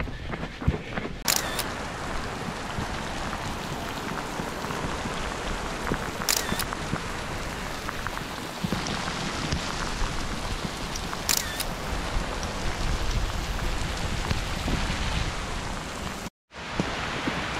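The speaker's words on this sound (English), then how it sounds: "Oh man, it is totally pouring." Heavy rain pours down during an outdoor photo shoot, a dense, constant hiss of drops broken only by a few camera shutter clicks and a brief dropout near the end.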